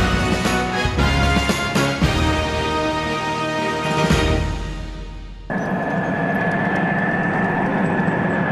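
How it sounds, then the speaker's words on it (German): American Amtrak train passing by, a loud, close rumble with sustained tonal whine and clattering accents, shifting abruptly to a steadier roar as the cars go past. "Wenn ein amerikanischer Amtrak-Zug an einer sogenannten Tiger-Trommel sowjetischer Bauart vorbeifährt"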